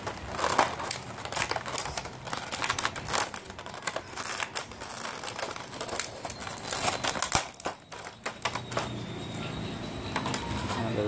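Crinkling and crackling plastic as a sealed plastic clamshell package for a Bandai S.H.Figuarts Kamen Rider Ichigo figure is pried open and sellotape is pulled free; dense, close, busy handling noise throughout, with no talking.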